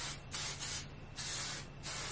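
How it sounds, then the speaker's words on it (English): A cosmetic spray bottle hisses in four short bursts in quick succession, close by and fairly quiet, with no talking. "I literally completely forgot about this spray,"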